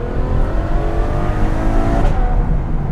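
A Ferrari FF's naturally aspirated 6.3-liter V12 drones loudly and close at steady revs, its tone shifting slightly near the end, with no voices over it.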